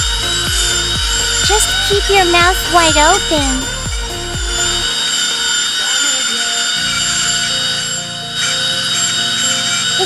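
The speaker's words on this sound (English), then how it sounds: "Have to use a drill." A toy dental drill buzzes in a string of short, sharp bursts, then gives a longer steady whir during play with a pink Hello Kitty doctor set, while a voice speaks over it.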